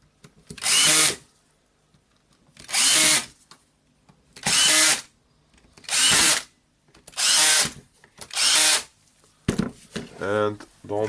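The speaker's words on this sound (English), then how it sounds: "Now we need to screw the screws in." A Makita DTD146 cordless impact driver drives housing screws in six even bursts about a second each, spaced by short pauses, followed by brief lighter mechanical clicks and handling at the end.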